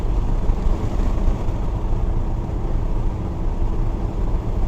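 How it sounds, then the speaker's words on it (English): A Squarebody truck engine rumbles steadily at idle after starting, a low, continuous drone heard close up with no voices. "The engine started up pretty good."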